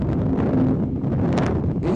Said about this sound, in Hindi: इस जगह में बहुत तेज हवा